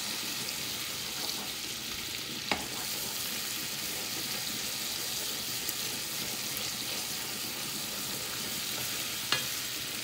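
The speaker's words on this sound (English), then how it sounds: "we're going to allow our tomato paste to cook, guys, for a few minutes, along with our peppers, guys. We want that to saute in there." Tomato paste and peppers for Haitian salt fish sauce sauté in a pan, a steady dense sizzle throughout with a couple of brief utensil clicks.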